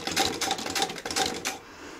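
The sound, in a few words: Singer 31k15 sewing machine running slowly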